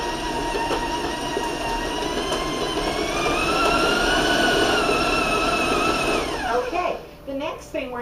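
Stand mixer creaming butter for a rich chocolate pound cake at raised speed: a loud, steady whirring motor with a high whine that rises in pitch, then sputters and drops off near the end.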